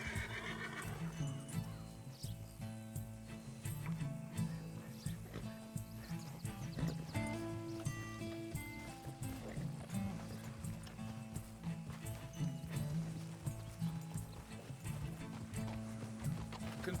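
Horse hooves clip-clop steadily throughout in the video game Red Dead Redemption 2, with whinnies and snorting layered over a busy background of tonal sounds.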